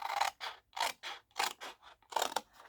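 Scissors snip through a sheet of A4 paper in four or five distinct rhythmic cutting strokes, each a crisp close-up scraping crunch separated by brief pauses.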